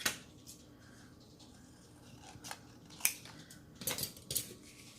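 Scissors snip through a scrap of book page paper in a few quiet, close cuts, with faint handling rustle between the sharp clicks.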